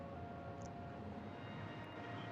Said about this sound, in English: More trains.